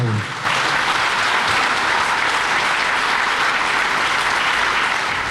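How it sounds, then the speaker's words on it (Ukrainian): Sustained audience applause at a Kharkiv City Day awards ceremony, breaking in sharply and holding as a dense, even wash of many hands clapping for about five seconds. "Давайте оплесками поаплодуємо."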